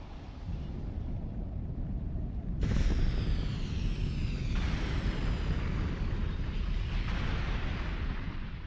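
Anak Krakatau erupts with a continuous deep roar that jumps in loudness partway through and then holds steady and rumbling for several seconds, heard from the sea with no voices.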